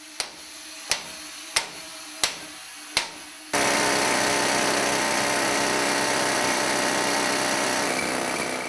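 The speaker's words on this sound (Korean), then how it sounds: "금맥을 뚫는 진동은 온몸에 고스란히 전해져 오고" Five sharp hammer strikes ring out at a steady pace in a gold mine tunnel, then a rock drill kicks in and roars continuously, boring into a gold vein, loud and close with no voices.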